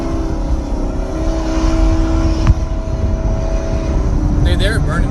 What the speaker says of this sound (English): they're burning up that engine